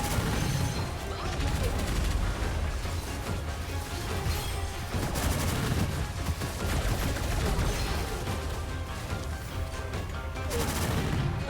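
Dense, continuous gunfire from the shooter game Gunfire Reborn, rapid overlapping shots and impacts forming a loud, sustained fusillade with crashes and booms layered throughout.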